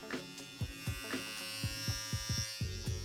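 A Philips Norelco Multigroomer Series 3000 all-in-one electric trimmer runs with a steady close buzz, joined by repeated low thumps and clicks from handling as it operates.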